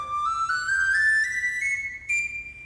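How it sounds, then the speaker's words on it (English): A low-D wooden tin whistle plays a clear, breathy short rising phrase of sustained notes, stepping upward, then settles on a held pitch. "And a low-D wooden tin whistle"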